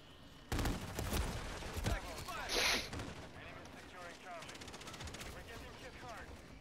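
Rapid gunfire from an unmodified gun in a Modern Warfare 3 multiplayer match, a loud sustained burst of shots followed by more scattered fire and game noise.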